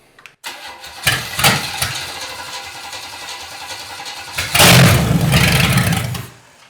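Junk car engine cranking with starter bursts, catching and revving loudly, then settling into a rough close-up idle before cutting off, no talk.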